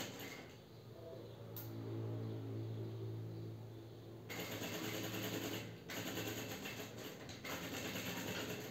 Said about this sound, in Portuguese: Vou costurando até a outra ponta aqui onde eu marquei.